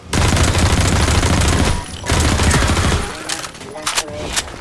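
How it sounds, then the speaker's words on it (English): An MP7 submachine gun fires in the Half-Life MMod game as loud, dense automatic bursts, two long sustained strings followed by sharper, sparser shots and faint metallic clinks. "Even the little pea shooter MP7 finally feels like a real man's gun."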